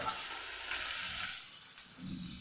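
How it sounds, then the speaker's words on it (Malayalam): Ginger and onions frying with garam masala in a pan, a loud, continuous close-up sizzle with faint stirring and no pauses. "ഇനി ഇത് ഒരല്പം ഉപ്പ് ചേർത്തിട്ട് നമുക്കൊന്ന് വഴറ്റിയെടുക്കാം"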